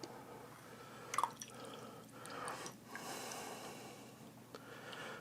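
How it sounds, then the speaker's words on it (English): Liquid draining from three cans of tuna in a home kitchen: faint, wet dripping and squishy trickles close by, with a few brief splashes and no voices. "That's all the liquid out."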